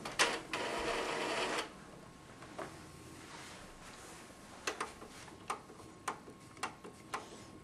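An Epson R280 inkjet printer shifts its cartridge holder, first a short whirring run, then a quiet pause and a series of sharp mechanical clicks and ticks at irregular intervals, close and fairly faint, with no talking.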